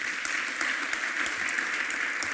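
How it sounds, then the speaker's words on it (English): Conference audience applauding steadily at a women-in-tech event, a dense, even wash of clapping throughout with no talk. "And again, a big applause for yourself,"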